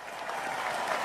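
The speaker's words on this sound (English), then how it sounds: "how about an extra round of applause for them?" An audience applauds steadily at a live show, a dense wash of clapping that holds even and fairly faint for about a second.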